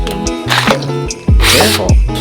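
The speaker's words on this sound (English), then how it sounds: "starting with drilling the pilot holes for the spacer boards" A power drill whirs in short bursts, drilling pilot holes in wooden spacer boards for a bookcase, spinning up and winding down several times close by, with brief gaps between each pass.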